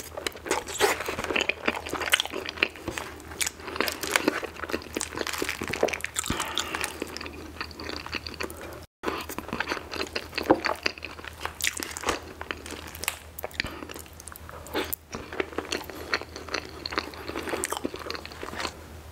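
Chili cheese fries and a Portillo's chili cheese dog are eaten up close, with steady wet chewing, squishing and crunching bites that continue throughout at moderate loudness.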